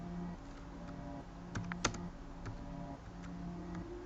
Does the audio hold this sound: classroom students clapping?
no